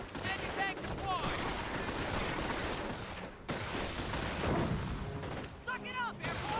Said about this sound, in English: Suck it up, airborne. We're taking pot shots